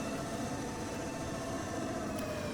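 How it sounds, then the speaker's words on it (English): A BMP-1 infantry fighting vehicle in Gunner, HEAT, PC! drives along with a steady, continuous engine drone and track rumble, loud and close throughout with no talking. "the driving sounds amazing. The way the tracks sound, the way the engine sounds"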